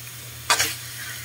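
Pork adobo sizzling in a pan as it is stirred, a steady close frying hiss with one short louder scrape of the stir, no talking.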